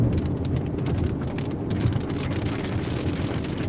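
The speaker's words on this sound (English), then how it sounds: "The rain's coming a little heavier now." Heavy storm rain pours steadily in Winona County, Minnesota, a dense constant hiss of drops pattering on surfaces with a low rumble underneath, heard from inside a vehicle on a rough road.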